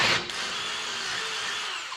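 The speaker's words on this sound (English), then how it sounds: "Let's try a better drill bit, perhaps." Power drill with a drill bit biting into metal while modifying the frame of a 1976 Chevy Luv, a high steady whine running close and loud for a couple of seconds after a short sharp start.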